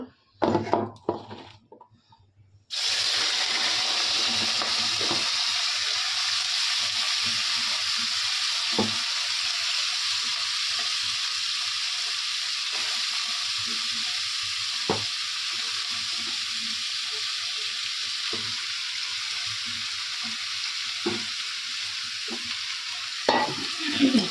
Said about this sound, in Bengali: প্রথমে আমার সবজিটা ভাজা করে নিই